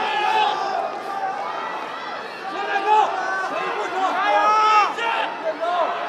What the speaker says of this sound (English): The crowd here at Cage Side absolutely loving this as we are.